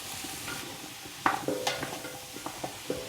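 Bell peppers and other vegetables sauté in a pan for couscous, a soft sizzle under a few close scraping stirs and light clinks of a utensil against the pan, with no talk.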